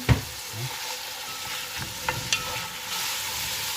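Raisins, black and brown, being stirred in butter and oil in a hot pan, a continuous sizzle and fry with soft scraping stir strokes and a couple of light clinks, close and alone.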